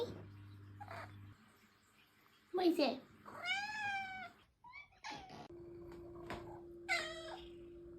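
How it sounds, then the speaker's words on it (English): A pet cat gives several short, high-pitched meows with a rising and falling tone, close and clear, interspersed with someone talking to and about the cat. "short, more high-pitched meows"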